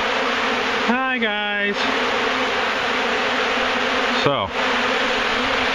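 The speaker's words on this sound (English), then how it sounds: "that's a lot of bees, isn't it, people?" Honey bees swarm in dense, steady buzzing close by while a hive with many queen cells is being removed; a voice speaks briefly over the drone.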